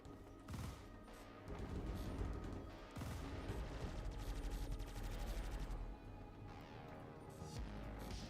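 Ship-mounted shotgun weapons firing in the space game Star Citizen, with repeated blasting bursts and booms in dense, loud, rhythmic volleys that keep going with only brief pauses.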